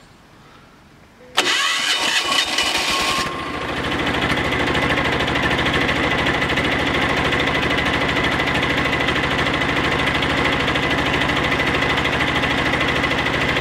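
A Titan Pro 1100B tiller engine cranks with a short burst of starter chugging, catches, and settles into a loud, steady, even idle that runs on without a break.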